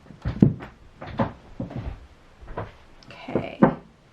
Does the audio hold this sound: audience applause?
no